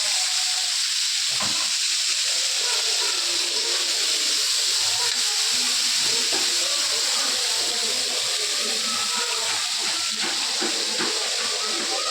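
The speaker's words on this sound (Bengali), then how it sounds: "এখানে মাছ ভাজা হচ্ছে।" Tilapia fish fries in a pan with a steady, close hiss and crackle of hot oil that runs unbroken throughout, with faint background noise around it.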